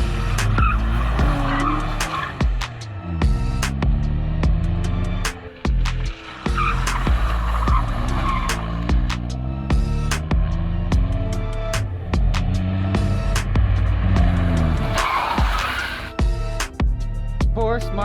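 A Smart car skids and drifts around a corner, locking up and oversteering, with loud sustained tire squeal and shifting engine tones running throughout, close and continuous.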